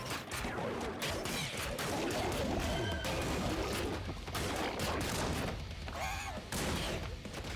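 Enemies firing bouncing bullets in the fast action game ScourgeBringer, a busy barrage of rapid shots, impacts and crashes that runs steadily throughout with some sweeping tonal effects mixed in.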